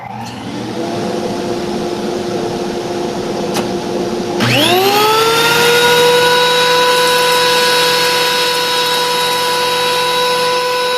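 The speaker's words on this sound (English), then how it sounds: "you might hear as it's feeding, chuk, chuk, chuk, chuk, chuk, where it really lifts into the cutter head and it starts chipping wood out of it" Thickness planer feeding a board into its cutter head and chipping wood: a loud, steady mechanical whine that jumps sharply in pitch and intensity partway through, then holds as a constant high drone.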